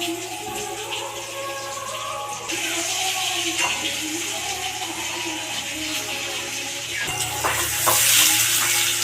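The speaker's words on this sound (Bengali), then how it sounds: "ওই তেলেই আমি আলুটা ভেজে নিচ্ছি" Potato pieces fry in hot oil, making a moderate, uneven sizzle with occasional stirring scrapes and clatter, growing a little louder toward the end.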